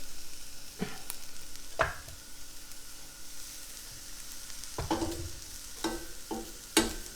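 Shrimp frying in a pan, a steady low sizzle punctuated by several sharp clinks and scrapes of a utensil against the pan at irregular intervals, close by.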